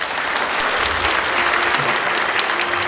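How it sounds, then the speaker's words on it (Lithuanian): An audience at an awards ceremony claps steadily throughout, a dense, even burst of applause from a full crowd with no break. "Aplodismentai."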